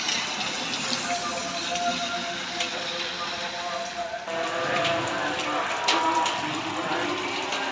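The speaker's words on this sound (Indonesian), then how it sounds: "Situasi diguyur hujan teman-teman" Heavy rain pours down at night beside an Indonesian roadside. A steady, dense hiss of drops carries on throughout, growing slightly rougher and louder partway through.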